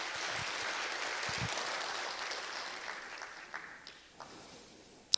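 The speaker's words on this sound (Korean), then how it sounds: "감사의 박수 주시겠습니까?" Audience applause of thanks at a Korean community self-governance day proclamation ceremony, steady clapping from a hall crowd that fades toward the end, with a few sharp claps and a brief noise at the close.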